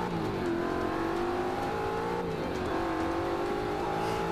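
A 2015 Mustang V8 Supercar in the racing game Forza 5 roars loud and close, the engine note rising and falling as it revs and shifts through a continuous race with no break.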